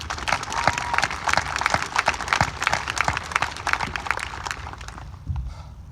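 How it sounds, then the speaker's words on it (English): A graduation audience at Founders Classical Academy claps in a dense, steady wave of applause that runs several seconds and then thins out. "I think you all deserve a round of applause."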